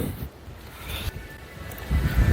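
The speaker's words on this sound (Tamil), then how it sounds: "காற்று பயங்கரமாக அடிக்குது." Strong wind buffets the microphone at the Kanyakumari seashore, roaring in uneven gusts that swell louder toward the end.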